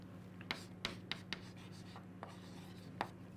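Marker or chalk writing on a board during a physics lesson, with quiet irregular scratches and taps as strokes are made, several sharper strokes spaced out over a faint steady hum.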